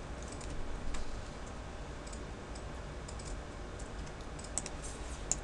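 Computer keyboard keys are pressed in a scattered run of soft, quiet clicks during a software drawing lesson, with no talking.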